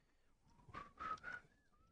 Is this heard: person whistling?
yes